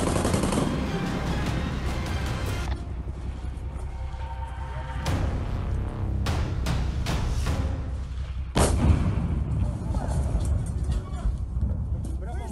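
Gunfire in urban street fighting as tanks are fired upon on a city beltway: a continuous roar of shooting runs throughout, with heavy thuds and sharp bursts near 2.5, 6–7 and 8.5 seconds. Voices are heard amid the fire.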